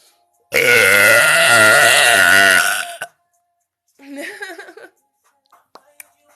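A girl lets out one long, loud, drawn-out burp, then after a pause a shorter second burp, followed by a few small faint clicks.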